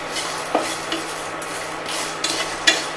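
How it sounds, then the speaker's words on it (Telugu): Spices frying lightly in a pan for stuffed brinjal curry, giving a soft, steady sizzle with a few faint clicks and taps from the utensil, close by and fairly quiet. "వీటిని కూడా వేసి లైట్గా వేయించాలి."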